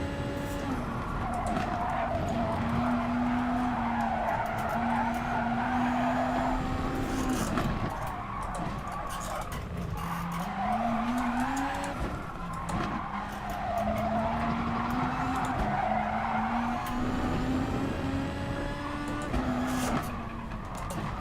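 A Volkswagen Beetle Gr.3 race car laps Interlagos in a video game, its engine whining and shifting pitch continuously, with tires squealing and skidding through the corners.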